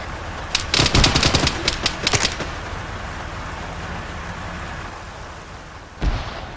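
Rapid automatic gunfire in a military video game during ambush training, a dense burst of close, sharp shots followed by a steady rushing backdrop and one more distant thud near the end.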